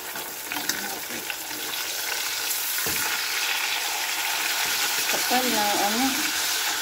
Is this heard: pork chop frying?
yes